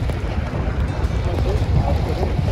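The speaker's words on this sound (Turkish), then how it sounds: "Mesela sert bir rüzgar geldi." Loud, blustery wind roaring and buffeting the microphone on the coast at Fethiye, Turkey, a constant low rumble with gusty surges.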